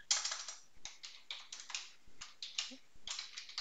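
Keys clatter on a computer keyboard in a quiet room, a soft close series of taps in short irregular bursts, faint and alone without speech.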